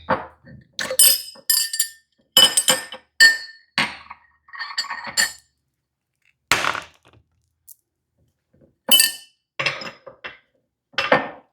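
A tall drinking glass clinks and knocks sharply as it is handled on a hard surface, a series of close, bright taps in irregular bursts with quiet gaps between.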